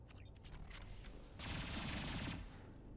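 The Geth pulse rifle in Mass Effect 2 fires a fast, buzzing automatic burst that lasts about a second. The burst is fairly quiet and sits over a faint ambient hum, with no talking.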